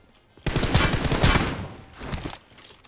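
Rapid automatic gunfire in the shooter PUBG Mobile: a loud close burst of rattling shots lasting about a second, a brief pause, then a shorter second burst, with no speech over it.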